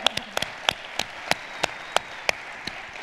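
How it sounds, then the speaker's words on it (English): Applause from a conference crowd of about 700 people at FEEcon 2018, heard as a steady wash of clapping with several sharper individual claps standing out at irregular intervals, with no talk over it. "Give yourselves a round of applause"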